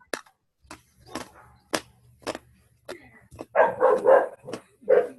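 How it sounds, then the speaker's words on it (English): A dog barks in sharp separate yelps, then a louder quick cluster of barks near the end, close and clear over a quiet background. "Someone's dog is barking."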